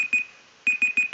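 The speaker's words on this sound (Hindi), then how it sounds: "0 सेकंड में आ जाएगा तभी वो एक बीप साउंड देगा" A Google search-page countdown timer sounds its alarm on reaching zero: a bright electronic beep repeated in a short burst, a pause, then four more evenly spaced beeps, clear and close with no talking.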